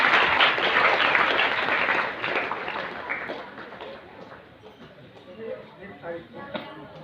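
Loud, dense clapping from a congregation at a Christian healing and prayer meeting, sustained at first and then thinning into scattered, irregular claps.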